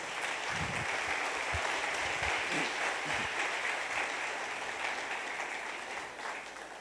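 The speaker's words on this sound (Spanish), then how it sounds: "póngase en pie, denle un aplauso a nuestro Rey," Church congregation applauding during a Sunday service, a broad steady wash of clapping with a low hum underneath, tapering slightly toward the end.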